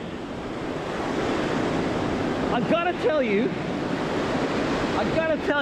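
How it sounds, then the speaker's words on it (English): Ocean waves break steadily on a beach in a broad, continuous wash with wind buffeting the microphone, while someone talks over the surf. "Now, I know you see a few waves coming in behind me now."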